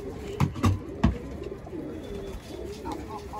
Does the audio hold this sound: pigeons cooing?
yes